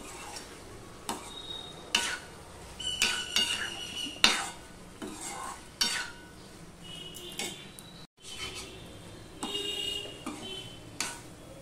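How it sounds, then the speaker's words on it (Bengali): A spoon stirs mustard-poppy paste into okra in a pan, with repeated scraping and clinking against the metal and a faint sizzle underneath, close and irregular, with no talking. "দেখো, সর্ষে পোস্ত দিয়ে দিলাম, দিয়ে সম্পূর্ণটা আমি মিশিয়ে নিচ্ছি।"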